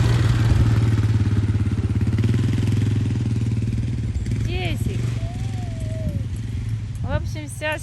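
A 2005 Suzuki King Quad 700 ATV rumbles with a steady, loud, close engine drone that fades a little as it moves off. Voices and short bird-like chirps are heard toward the end.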